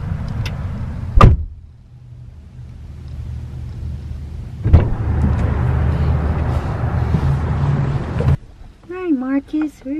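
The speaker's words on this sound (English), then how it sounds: "Marcus, we're in the car" Car doors thud shut twice as people get into a car, each a sharp close bang, with a low interior rumble and rustling in between and a voice and talking at the end.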